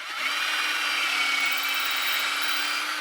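Power drill boring holes about 3/4 inch deep for magnets in a 1/4-scale custom Hellboy figure build; a steady, continuous whirring drone runs close and fairly loud for the whole stretch, with no talk.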